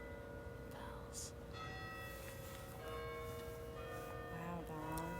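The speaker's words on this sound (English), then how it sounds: "Bells." Church bells ring with layered, sustained tones, fairly distant and faint, over a steady background hum.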